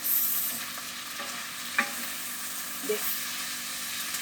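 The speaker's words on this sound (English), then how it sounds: "I'm gonna give this a mix." Boiled lentils stirred into a pot of frying onions and herbs, a soft steady sizzle with two distinct scraping knocks of the spoon against the pot, close by.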